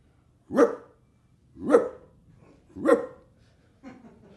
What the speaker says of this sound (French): Il y avait un chien dans la salle.